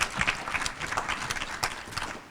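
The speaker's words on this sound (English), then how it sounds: "invite you to applaud her for the tremendous work" A room of people applauds, a dense patter of clapping hands that fades slightly over a couple of seconds.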